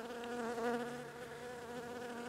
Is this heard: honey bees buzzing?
yes